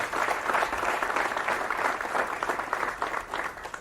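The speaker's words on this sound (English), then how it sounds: "Big round of applause for our council members" Applause for council members at a city press conference, dense crowd clapping that stays loud and even throughout, close and unbroken, then tapering slightly at the end.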